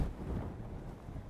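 A big gust of wind buffets the microphone at the Snake River Canyon, a loud, low, rumbling roar that stays steady for the whole short moment.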